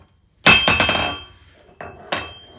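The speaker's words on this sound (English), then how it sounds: "This is a little cheapo Chinese cast anvil. It's cast steel, not cast iron." A cheap Chinese cast-steel anvil rings with several rapid bright metallic strikes and a long shimmering ring, followed by two more separate ringing hits, close and loud with no talking.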